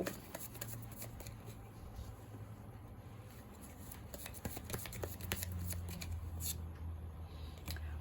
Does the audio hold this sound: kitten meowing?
no